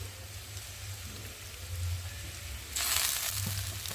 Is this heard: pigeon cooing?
no